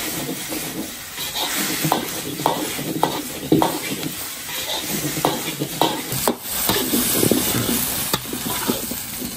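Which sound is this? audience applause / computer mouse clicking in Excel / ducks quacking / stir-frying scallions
stir-frying scallions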